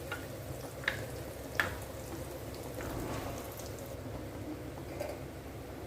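Raw banana slices fry slowly over a low flame for a spicy Chettinad-style fry, giving a steady soft crackle and hiss with a few brief sharper pops, alone and without talk.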